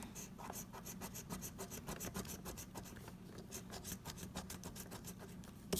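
Scratch-off lottery ticket, a $2 Big Cash Money match game, being scratched: steady rapid rasping strokes close up, continuous and moderately quiet, with no voices.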